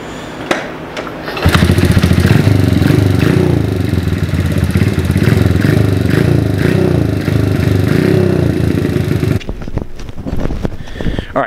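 A Honda CRF50 dirt bike with a fuel-leaking carburetor float valve is started after a few clunks, then its small engine runs loud and close in a steady putter before cutting off.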